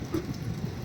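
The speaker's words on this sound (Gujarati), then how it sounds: "વરસાદ મેઘરાજા વરસવાનું કોમ ચાલુ કરી દીધું છે" Rain falls steadily as a soft, faint hiss of drops on surfaces during a rural outing near a Goga Maharaj temple, brief and with no voices.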